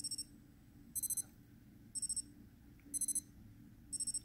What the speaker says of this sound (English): Let me see if I can do this and set this alarm off for you.